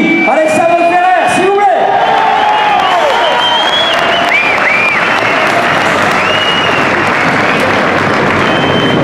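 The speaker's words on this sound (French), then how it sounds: "on l'applaudit, Alexandre Ferrer, s'il vous plaît." A crowd applauds and cheers in the indoor arena at the 2015 X-Trial World Championship motorcycle trial in Pau, a dense, steady roar of clapping, with an announcer's voice carrying over the opening seconds.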